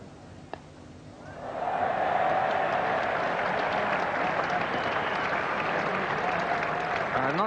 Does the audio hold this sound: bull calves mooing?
no